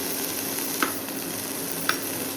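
Food fries in a pan with a continuous soft sizzle, broken by two brief scrapes of a stirring utensil against the pan.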